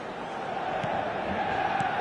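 A full stadium crowd at a football match keeps up a steady roar and murmur, with faint voices standing out above it.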